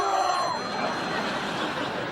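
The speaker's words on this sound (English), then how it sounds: "I think the phone is ringing." A telephone rings in a room with a steady, fairly loud electronic tone running through the whole short stretch, with no talk over it.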